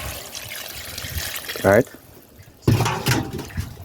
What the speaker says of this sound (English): So I'm gonna add some water to it.